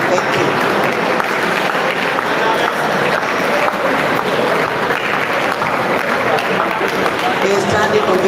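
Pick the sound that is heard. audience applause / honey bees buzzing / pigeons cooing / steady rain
audience applause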